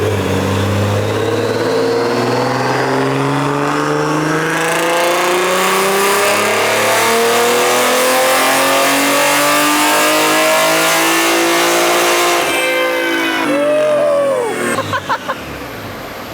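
A tuned car engine on a dyno run revs hard and climbs steadily in pitch for about twelve seconds, making 445 wheel horsepower, then drops off with a few popping bursts as it winds down.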